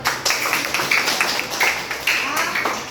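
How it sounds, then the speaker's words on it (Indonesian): Students in a classroom clap together for about three seconds, a dense, steady patter of many hands close by, with brief louder swells throughout. "Ya, sekali lagi tepuk tangan buat kalian."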